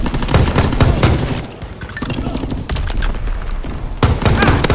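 Anti-aircraft flak fires at enemy planes in the World War II shooter Call of Duty: WWII, loud rapid bursts of gunfire and booms pounding almost continuously, with a brief lull in the middle before the barrage resumes.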